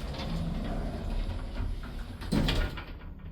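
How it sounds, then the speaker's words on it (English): An old ThyssenKrupp lift in Lisburn closes its doors: a continuous low mechanical rumble, then a short clunk and slide as the panels meet near the end, fairly close, with no talk over it. "Doors closing."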